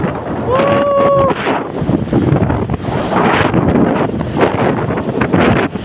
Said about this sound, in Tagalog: Sobrang lakas ng hangin guys.